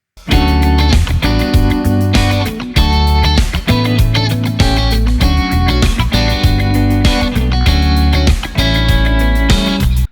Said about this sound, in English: Now for guitar 2, I'm going to be playing a different set of strings.